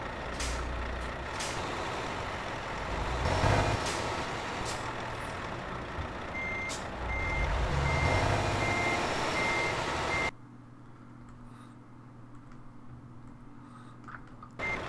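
Steady high reversing beeps repeat over a loud idling truck engine with a hiss of air brakes, then the rumble drops to a quieter hum, in the video game Euro Truck Simulator 2.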